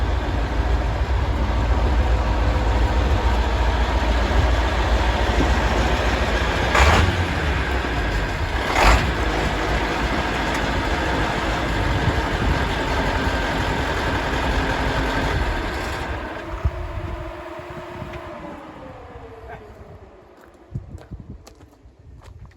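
An old Massey Ferguson 1150 tractor engine runs steadily nearby with a deep, continuous rumble and a couple of brief knocks, then the engine note drops and fades toward idle near the end.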